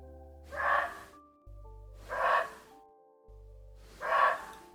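Three loud, dog-like barks from a muntjac deer, spaced evenly about a second and a half apart, each a short hoarse yelp over a low steady hum.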